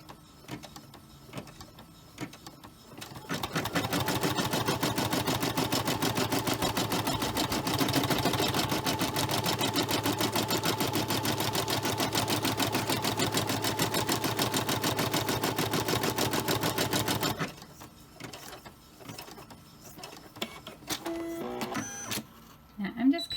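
An embroidery machine stitches a heart design for an in-the-hoop purse charm, a rapid, loud mechanical whirring and ticking that runs steadily for about fourteen seconds before stopping, with quieter handling noises around it.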